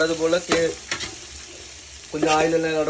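Ingredients frying in oil for camel biryani, a loud close sizzle with a few sharp stirring scrapes and humming tones rising and falling over the crackle.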